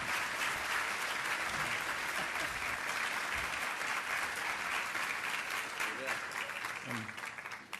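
Audience applause at a city transportation conference panel welcoming Austin's transportation director Rob Spillar, a full, steady clapping from a sizeable crowd lasting several seconds before tapering slightly at the end.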